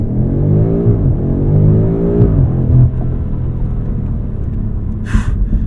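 A 2021 BMW M5 (F90) engine roars as it accelerates, pitch climbing then dropping at gear changes, a loud steady rumble continuing afterward.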